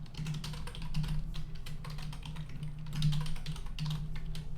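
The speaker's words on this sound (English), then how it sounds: "why I'm typing my password again" Rapid, fairly quiet clicks of keys being pressed on a computer keyboard as a password goes in, steady and close, over a low background hum.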